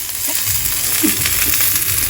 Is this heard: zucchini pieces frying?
yes